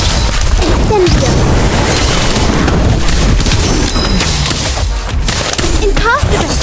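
Incendio fire spell from Harry Potter: Magic Awakened, a dense burst of booming, crackling game effects amid layered battle noise and music, loud throughout with sharp hits.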